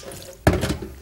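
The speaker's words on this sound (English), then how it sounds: "drain off all the water" Rinse water poured off soaked lentils for dhal, a sudden loud splash and gush that starts partway through and trails off in a short run of pouring, close by with no talk.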